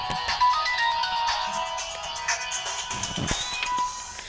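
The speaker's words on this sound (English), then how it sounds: "And of course my phone's ringing, so just one moment." An electronic phone ringtone plays a bright, repeating melodic pattern, loud and close, with no talking.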